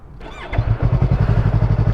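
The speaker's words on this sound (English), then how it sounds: "Start the bike up again just like before." A motorcycle engine starts up, a brief cranking scrape giving way to a steady, close, loud idle with a quick regular pulsing beat.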